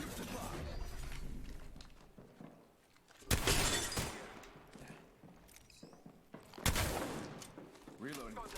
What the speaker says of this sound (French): elle tire sur mon leurre